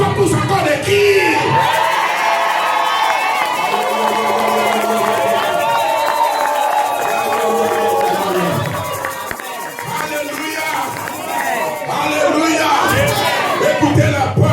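A church congregation at a lively service shouts and cheers almost without a break, a loud wall of mixed voices with yells and whoops, and excited speech mixed into the roar.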